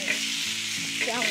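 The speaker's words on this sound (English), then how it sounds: "I've got the burger patties on." Burger patties fry on a camp stove with a steady, close, even sizzle throughout, joined by a brief scrape or shift of the food near the end; no one speaks.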